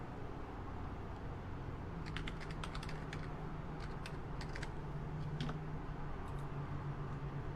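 Typing on a computer keyboard while entering a WordPress admin name and password, a quiet run of soft, irregular key clicks in bursts over a low steady room hum.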